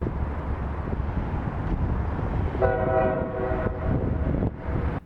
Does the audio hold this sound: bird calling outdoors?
no